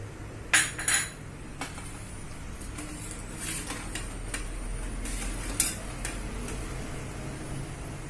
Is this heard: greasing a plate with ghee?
yes